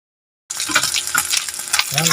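Vegetables stirred in a hot frying pan, with a steady close sizzle and scraping under a soft, busy clatter through most of the stretch, starting abruptly after a short silence.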